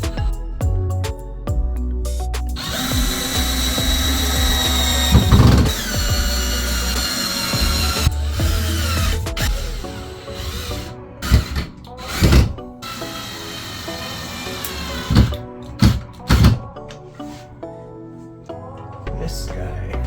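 A power drill drives screws into an RV furnace during a dinette-to-desk conversion, with bursts of whirring motor and sharp thunks of the bit biting, loud and close, stopping and starting several times.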